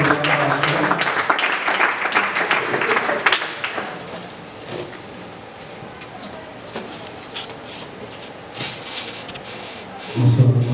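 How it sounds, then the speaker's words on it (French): Applause and cheering from a congregation at a revival gathering as an evangelist rises and approaches, loud and dense for the first few seconds, then fading into quieter crowd murmur with a brief swell near the end. "nous l'encourageons pour les acclamations."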